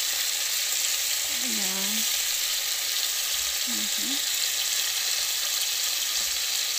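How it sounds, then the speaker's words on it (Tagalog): Pork ribs frying in a pan, a steady broadband sizzle of hot oil running throughout, with a voice briefly speaking over it. "antayin lang natin matapos lahat pagprito"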